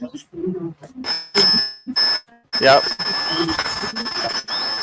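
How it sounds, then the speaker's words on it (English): A K2 meter sounds sustained, steady high electronic tones that ring out alone in short bursts, then continue under a person speaking nearby. "This is the K2 meter."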